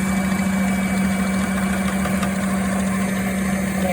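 A Bella 3.5-quart stand mixer runs continuously while mixing red velvet pound cake batter, giving a steady, loud motor hum with a strong low drone and even mechanical whir throughout, with no talking.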